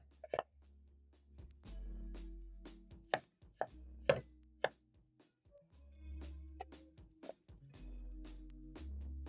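A knife chops potatoes on a cutting board, crisp scattered cuts at an unhurried pace over a low background hum, fairly quiet and close.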